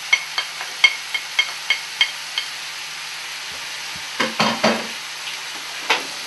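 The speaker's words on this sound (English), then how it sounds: "And just mix that in with the vegetables." Garlic is stirred into vegetables frying in a pan for spaghetti: a steady hiss of sizzling with a quick run of regular spoon taps against the pan, then a few louder scraping stirs.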